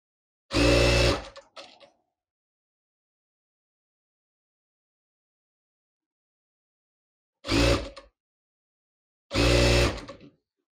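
A sewing machine stitching blouse fabric in three short, loud bursts of rapid mechanical whirring, separated by long silent pauses.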